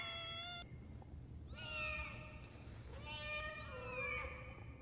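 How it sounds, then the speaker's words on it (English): A pet cat meows several times close by, each call rising and falling in pitch, with a short pause between the first cry and the later ones. "Little kitty cat, kitty cat, little kitty cat, why are you meowing?"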